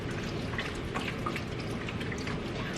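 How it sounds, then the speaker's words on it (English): Water poured into a cooking pot at home, a steady close stream with soft splashing that stays constant throughout, no talking. "I'm gonna add water to this as well."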